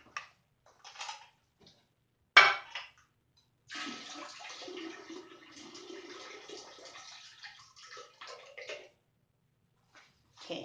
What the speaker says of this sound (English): and then dump it again in the toilet.